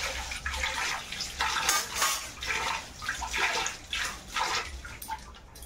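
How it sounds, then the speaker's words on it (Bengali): A wok gets washed under a running tap in a home kitchen, water splashing steadily with fluctuating gushes and a few light metallic clinks, close and fairly loud, with no speech. "কড়াটা ধুয়ে নেব।"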